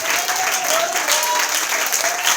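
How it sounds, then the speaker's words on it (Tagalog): A church congregation claps for the Lord at an anniversary service, steady dense applause throughout with a faint sustained tone beneath. "Isa pa po natin palakpakan ng Panginoon. Yung palakpak po na para kay Lord."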